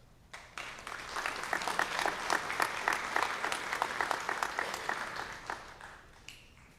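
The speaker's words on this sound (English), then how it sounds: "Let's give a round of applause for our next presenter," Audience at a high school scholarship and awards ceremony claps steadily for several seconds, a dense burst of applause that swells quickly, holds, then thins out near the end.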